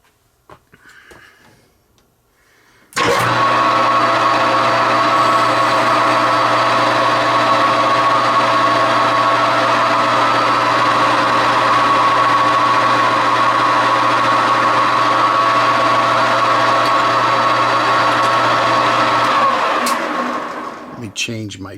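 A metal lathe turning down a Brown & Sharpe 754 C machinist clamp screw starts after a brief pause and runs as a steady, loud, humming drone with a whining tone for about seventeen seconds before winding down.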